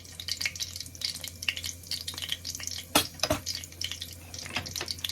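Cumin seeds sizzle in a pan of oil for aloo gobi, a quiet crackling hiss with scattered light pops and a couple of sharper clinks from a utensil, heard close with no speech.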